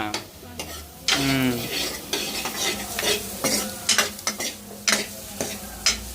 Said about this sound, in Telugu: ఇంకా ఉల్లిపాయలు వేసి మొత్తం ఇంకా ఫ్రై చేసేసుకున్నాము